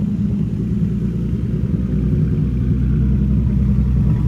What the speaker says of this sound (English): we're back up and running, man. No smoke pouring out of the hood. Idling normal.